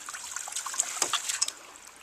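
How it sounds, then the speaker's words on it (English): Water from a ram pump trickles and splashes through a 3/4-inch outlet line outdoors, a faint, steady dribbling with small irregular spatters and no talk. "when I get my pump running, it is already pushing water back up through"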